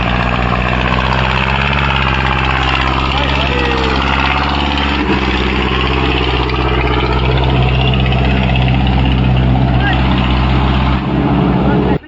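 A New Holland 5620 4x4 tractor, stuck in the field, runs with a loud, steady engine rumble that drones on without a break the whole time.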